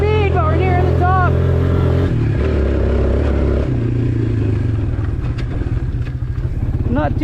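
A Suzuki Ozark ATV that had sat unused for years runs at full throttle in third gear, its engine whine climbing in pitch as it gains speed, loud and close with some clatter.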